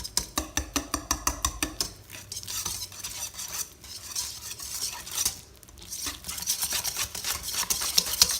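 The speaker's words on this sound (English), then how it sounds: "take a whisk or a fork and kind of mash your banana up" Fork or whisk mashing banana in a bowl for chocolate cloud cookies, a quick run of rhythmic clinking taps at first, then looser scraping and stirring against the bowl, close and fairly clear.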